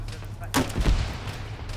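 Gunfire from a shooting video game, a quick burst of shots mixed with voices over a low, steady game rumble.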